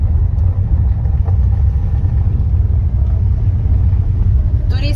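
Car driving along a mountain road in the Harz region of eastern Germany, a steady low engine rumble and road noise throughout, close and continuous with no talk.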